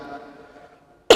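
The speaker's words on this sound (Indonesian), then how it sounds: "Saya mohon maaf agak batuk para jemaah sekalian ya." A single sharp cough from a man leading a religious study session, loud and abrupt after a stretch of quiet speech.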